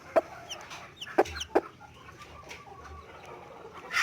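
Chicks peeping during hatching in an incubator, heard as a few short, sharp chirps spaced across the clip over a low, steady background hum.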